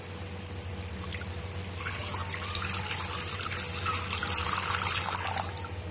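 Running water from a tap pours steadily into a pan on a home kitchen stove while tutti frutti syrup is being made, a continuous close trickle and splash that grows slightly fuller toward the end, with no talk.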